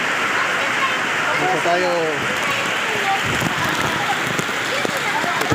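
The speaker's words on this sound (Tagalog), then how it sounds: "Grabe ulan." Heavy rain from Typhoon Carina pours down steadily in Montalban, Rizal, loud and close as a dense hiss, while people talk over it.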